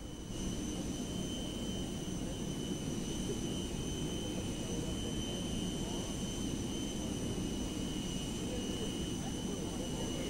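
The Indian Prime Minister's aircraft lands at Bunga Raya, Kuala Lumpur airport, with a steady, continuous jet engine roar that holds even throughout.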